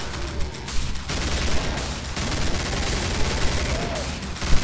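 Bullpup rifle gunfire in the Killing Floor video game: dense, continuous rapid shots rattle on without a break, loud and close, with a few sharper cracks standing out near the end.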